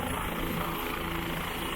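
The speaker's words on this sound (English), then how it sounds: "Finally, I can feel that I'm in front of the helicopter." A loud, steady helicopter roar with a dense rotor thrum and rushing wind fills the clip, close by and unbroken, in China.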